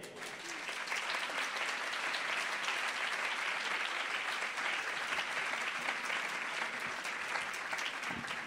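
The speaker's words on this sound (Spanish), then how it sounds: "con un aplauso enorme a Joaquín Lera" An audience at a talk gives sustained, even applause, many hands clapping steadily and fairly softly for several seconds with no voices over it.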